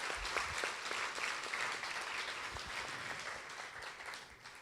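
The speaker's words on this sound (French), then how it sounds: "Je vous demanderai de l'applaudir bien fort" At a poetry evening, an audience claps warmly and steadily, individual hand claps distinct within the even applause, holding throughout and easing slightly toward the end.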